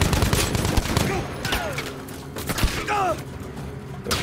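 Loud, dense gunfire crackles in a Battlefield V battle, with rapid overlapping shots and heavy thuds in irregular bursts, and voices faintly underneath.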